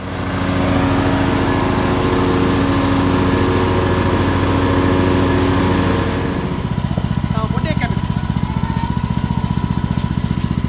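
Motorised cutter running steadily and loud while cutting cucumber vines before grass is cut, engine droning continuously at close range, then shifting to a lower idling pulse after about six seconds, with faint voices underneath.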